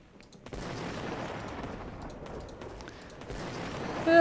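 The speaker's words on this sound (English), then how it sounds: "So we've got our ray gun and we're changing the projectile template to ray gun ray." A ray gun firing ray projectiles in the Crayta game, with a sudden sustained burst of crackling blaster fire that runs steadily for several seconds and ends in a rising tonal zap.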